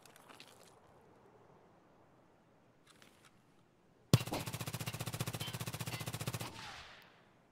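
A SIG MCX in .300 BLK fires a long rapid automatic burst in the video game Escape from Tarkov, loud and sharp after faint quiet shuffling, then stops abruptly.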